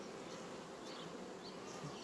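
Honey bees buzzing inside a hive, around a red queen and a queen cell being chewed open, a continuous soft drone of many wings, steady and faint throughout.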